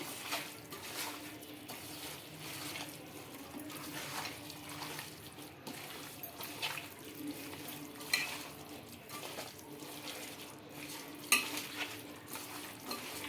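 Chicken coated in masala for dum biryani is pressed and stirred in a pot, giving repeated rhythmic scraping strokes over a low sizzle, fairly quiet and close, with no speech.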